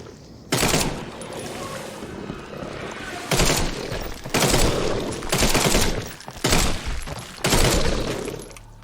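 A Thompson submachine gun fires in The Sinking City, with several loud bursts of automatic fire spread across the span, separated by brief pauses with a faint background.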